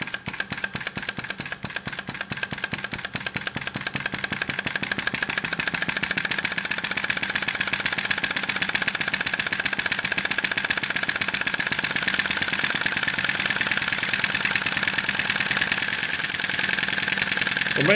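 A small Sai Hu V1-45 model vacuum engine runs continuously with a rapid rhythmic chuffing beat that steadies after a few seconds, close and fairly loud, with no talking.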